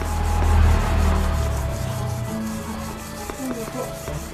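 Sandpaper rubs back and forth over a machete blade to remove rust spots, a close, steady abrasive scraping with a low handling rumble early on, later joined by faint scattered metallic ticks.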